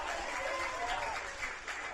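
Stadium crowd at a para football championship match applauding and cheering, a broad steady wash of clapping and voices at moderate distance that holds for a couple of seconds before easing slightly.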